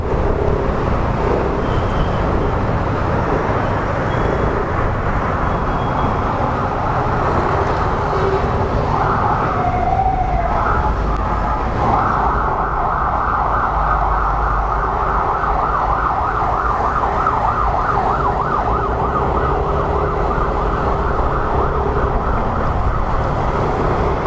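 An ambulance siren wails through steady traffic rumble, rising and falling as it passes nearby through slow-moving traffic.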